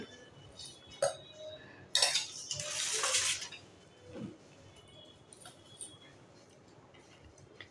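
A spoon scrapes and clinks against a bowl as bhel puri ingredients are tossed together, with a scattering of sharp metallic knocks and a brief louder rattling flurry, then quieter intermittent clinks.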